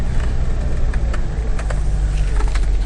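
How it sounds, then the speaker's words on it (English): Range Rover Classic being shifted into four-wheel drive, with a steady, loud engine rumble and a scattering of small mechanical clicks and clunks from the shifter close by. "let's put it in four-wheel drive."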